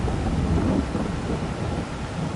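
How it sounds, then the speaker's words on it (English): Steady rain with low rumbling thunder in the farming video game Farming Simulator 22 on PS5, a continuous dense wash of rainfall under rolling thunder that swells early and carries on without speech. "Oh, it's raining."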